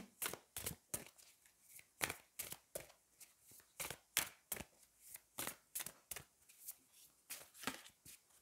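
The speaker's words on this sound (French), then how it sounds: "je vais aller prendre une carte du Magic of You" Cards from an oracle deck are shuffled and handled, producing a quick run of soft, crisp riffling snaps in an uneven rhythm, close and fairly quiet, with no voice over them.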